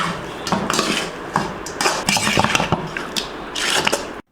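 A spoon scrapes and knocks against a bowl while KFC-style masala of pepper powder, ginger-garlic paste and salt is mixed by hand for fried chicken, giving a run of close, uneven clinks and scrapes with no talking.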